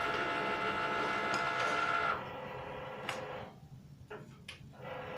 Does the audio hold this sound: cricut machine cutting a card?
yes